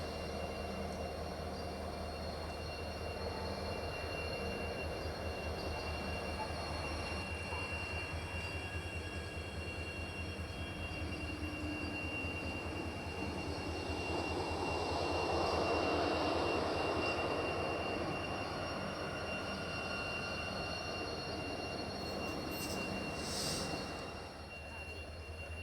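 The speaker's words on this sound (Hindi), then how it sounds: "तो अभी मडगांव जंक्शन में एंटर करने जा रही है Mangaluru central Madgaon junction Vande Bharat express" An eight-coach Vande Bharat Express from Mangaluru Central pulls into Madgaon Junction. Its steady, loud rumble of wheels and coaches swells toward the middle and then eases off near the end.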